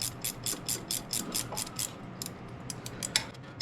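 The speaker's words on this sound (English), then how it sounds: "Screw it in just a little bit." A wrench ratchets a bolt in during the teardown of a 1954 R110, giving a close run of quick, crisp clicks in uneven bursts with faint hum underneath.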